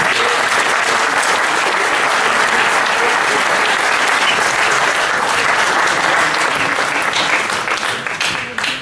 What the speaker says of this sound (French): S'il vous plaît, messieurs du comité d'organisation, qu'on applaudit,